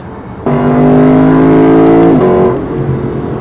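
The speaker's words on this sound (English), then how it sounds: "this is just a straight V8 on the borderline of supercar" Lexus LC 500 V8 engine revving hard, a loud, smooth rising roar that holds steady for about two seconds and then drops off to a lower idle-like tone.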